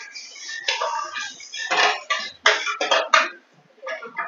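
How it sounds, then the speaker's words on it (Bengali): A spoon stirs sugar in a pan over a low gas flame while it melts, making close, repeated scraping and clinking strokes in uneven bursts with short pauses between them. "এইভাবে নেড়ে নিতে হবে, চিনিটা শুধু গলার অপেক্ষা।"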